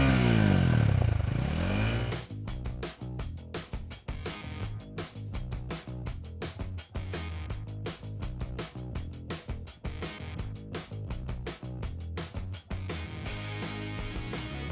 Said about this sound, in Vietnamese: Cái tiếng ống xả của Winner X này cũng hay hơn.